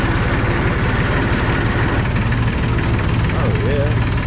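Jinma AK2940 tractor engine running loud and close with a steady, throbbing diesel chug as the machine turns around, with brief talk over it.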